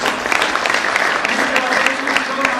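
Audience applause for a college president at a 2016 commencement ceremony, a steady dense patter of many hands clapping at even loudness throughout, with a faint hum beneath.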